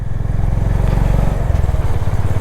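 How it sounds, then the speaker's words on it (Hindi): A 2023 Honda CB350 Highness DLX Pro motorcycle on the road gives a loud, steady, deep thumping exhaust note with an even rapid pulse, close up throughout. "रॉयल एनफील्ड वाले होंडा हाइनेस का एग्जॉस्ट नोट सुन के थोड़ा से"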